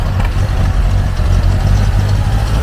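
An old Case 430 tractor engine idles at an antique tractor show parade, a steady loud low rumble with an even throb throughout and no voices.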